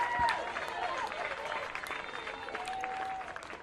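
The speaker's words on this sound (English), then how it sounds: "Let's give them a round of applause as they go to the outfield fence to retrieve their flag" Crowd applause for a youth baseball team at a Dixie Youth 8U World Series game, steady dense clapping lasting throughout with occasional whistles and cheers over it.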